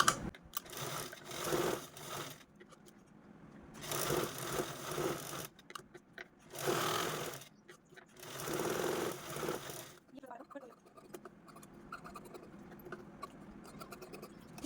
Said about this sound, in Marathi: आपण चारही बाजूने स्टिच करून घेऊ